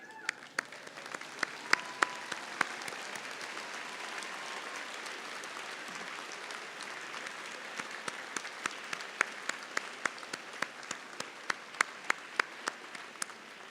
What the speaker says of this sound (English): And let us all give them a round of applause.